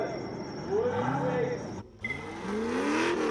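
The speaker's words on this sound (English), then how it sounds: "All the power in the world from the big Chev in the back of this truck" A big Chevrolet V8 mounted in the back of an off-road 4x4 competition truck revs hard and rises in pitch through acceleration, dropping off for a gear change before climbing again, loud and close with a commentator talking over it.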